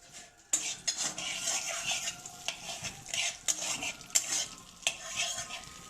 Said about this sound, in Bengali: এখন আমরা গরম মশলা একটু ভেজে নিই, শুকনো গরম মশলা দিয়ে দিচ্ছি